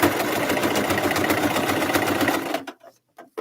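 A sewing machine stitching a tufted pillow runs in a loud, fast, even whir of needle strokes for about two and a half seconds, then stops abruptly into near silence.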